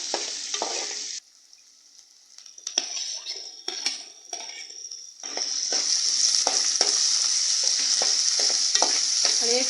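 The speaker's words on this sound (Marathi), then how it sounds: "चांगला कांदा परतून घेऊया थोडा कांदा आला ना की मग आपण याच्यात टोमॅटो घालूया" Onion and tomato are stirred and sautéed in a pan for an ivy gourd curry. The sizzle is steady and close, with a brief quiet gap, and scraping stirs come through before the frying grows louder and more continuous.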